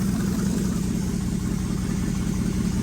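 Chevy C10 pickup with a swapped-in LS 6.0 V8 idling, giving a steady, even low rumble with a regular pulsing beat, heard alone and continuous throughout.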